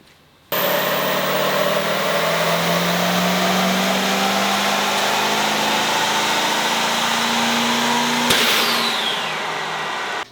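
A modified Ford 6.0 PowerStroke diesel truck on a dyno kicks in abruptly and holds a loud, steady roar with a climbing whine. A sharp clunk cuts in near the end before the noise eases off.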